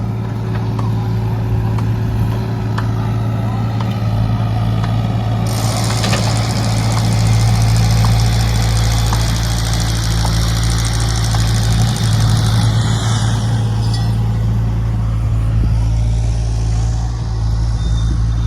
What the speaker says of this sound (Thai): ปั๊มนาดินเทปูนครับ